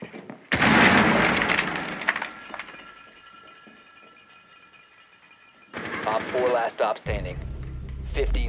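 Rainbow Six Siege gunfire erupts in a loud burst of rapid automatic shots, followed by quieter stretches and a second close burst with glassy crackle. A player voice speaks briefly under the game sounds.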